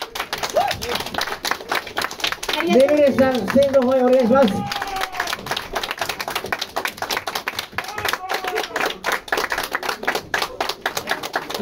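At a year-end party gig at a small live-music club, the audience claps in a dense, sustained patter of hands through the whole stretch, while a host speaks over it into the microphone.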